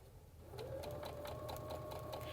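Baby Lock sewing machine stitching fabric with a clear quarter-inch quilting foot, a steady close-up motor hum with a fast, even needle rhythm starting up and running continuously.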